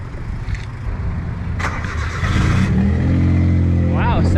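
A JDM car engine starts and revs up, a rising throaty rumble that swells in the second half, heard close and loud with brief talk before it.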